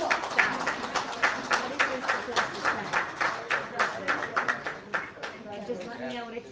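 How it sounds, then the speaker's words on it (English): Scattered applause from a small meeting audience after a police officer is sworn in, with quick bursts of claps and murmuring voices underneath, fading as talk resumes. "Let's give him a round of applause."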